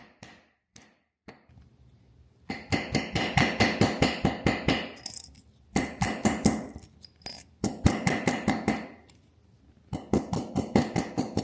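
Small hammer striking an annealed 24k gold bar being shaped into a ring, close and sharp, steady rapid blows in long bursts separated by brief pauses, with a few isolated taps at the start.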